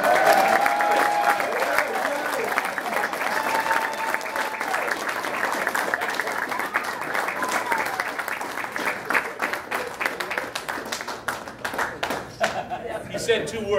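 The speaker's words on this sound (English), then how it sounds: "Keep clapping for a second." A crowd at a graduation ceremony applauds steadily for over ten seconds, a dense wash of clapping that thins toward the end, with a voice speaking over it early on.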